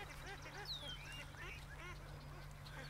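Ducks quack in a busy, overlapping chatter outdoors, with a goose-like call early on and a constant low hum underneath.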